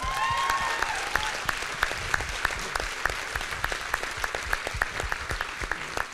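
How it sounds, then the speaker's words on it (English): Steady audience applause at an awards event for top distributors, many hands clapping densely for about six seconds with a few sharper claps standing out near the front. "so a round of applause for head office"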